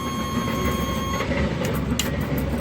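A train rumbles past in the background with a steady low roar and faint rattling, while a thin high-pitched key buzzer tone from inside a 1970 Volkswagen Beetle sounds briefly at the start.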